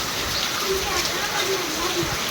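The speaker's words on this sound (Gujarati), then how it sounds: "વરસાદ જ એવો પડે" Steady rain pours down in a dense, even hiss that fills the whole clip, with no breaks.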